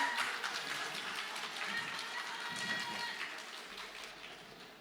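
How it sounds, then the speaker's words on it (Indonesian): Finalists and audience at a safety quiz show's board-game round clap after the correct answer is revealed, a moderate, fairly even patter of hands with a faint tone in the background, somewhat distant and soft. "Boleh tepuk tangan."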